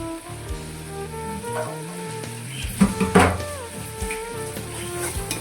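Garlic paste hits hot oil for chicken biryani, giving a steady close sizzle and frying crackle with a few louder spatters and stirring clinks midway, no talk.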